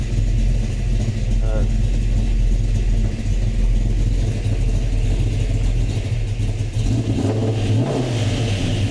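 A cold 1969 Mustang Fastback engine running with a low, steady rumble and a brief rev partway through, close by, with a voice talking over it.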